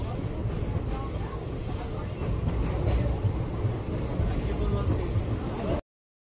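Interior rumble of the Basava Express passenger train running on the outskirts of Anantapur, a steady loud low roar with faint rattling, continuous before cutting off abruptly.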